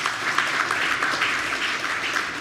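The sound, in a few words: applause at speech day prize giving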